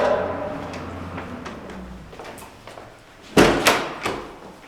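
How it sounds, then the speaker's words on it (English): A door being shut inside a sparsely furnished home, one sharp thud followed by a couple of fainter knocks and rattles, preceded by quiet room noise and small bumps. "Please shut the door."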